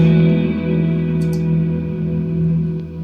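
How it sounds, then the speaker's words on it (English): Spacey synth music soaked in tape echo, with sustained droning tones and repeating delayed trails washing continuously and loudly through the whole stretch, no voices present. "I love that tape echo sound."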